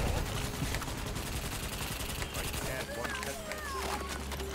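Dense gunfire in a bug-fighting shooter video game, continuous rattling automatic fire with a low rumble suggesting an explosion, busy and loud throughout, with voices and game chatter mixed in.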